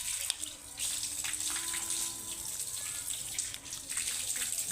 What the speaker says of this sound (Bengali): সুন্দরভাবে মুখটা ধৌত করবেন।